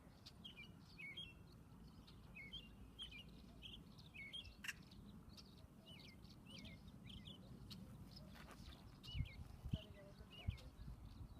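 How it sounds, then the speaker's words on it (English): Clear, varied American robin song phrases repeat steadily over a low background rumble, with a few brief soft knocks near the end. "So the song of the robin"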